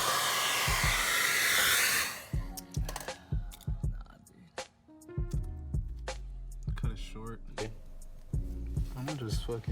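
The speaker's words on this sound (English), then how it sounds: "Busting out the hair dryer." A steady broadband rush of a hair dryer, used on car vinyl wrap, blows loudly for about two seconds, then cuts off, followed by clattering handling noises and someone talking.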